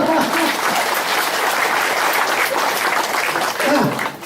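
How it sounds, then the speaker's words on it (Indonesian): A crowd applauds steadily and loudly for several seconds, with a few voices faintly audible in the mix. "Tepuk tangan ya."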